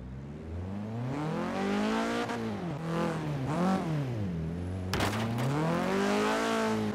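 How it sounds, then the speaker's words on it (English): A Chevrolet Corsa in Forza Horizon 3 drives through a tight turn, its engine droning loudly and steadily with rising and falling revs, plus a brief sharp burst near the end. "I will show you how easy it is to turn a Corsa around in 90 degree turn"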